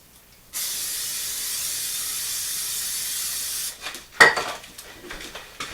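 A long continuous hiss of aerosol cooking spray coating extra large pizza pans, followed by a metal pan clattering and light clinks.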